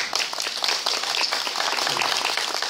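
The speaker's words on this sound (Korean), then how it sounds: "우리 박수 한번 크게 주십시오" Sustained audience applause at a Korean art-song gathering with piano, violin and cello, a thick, even rain of many hands clapping at moderate volume throughout.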